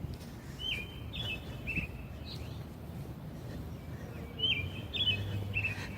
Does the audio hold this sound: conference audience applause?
no